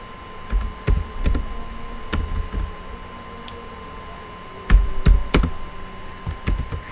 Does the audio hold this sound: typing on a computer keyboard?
yes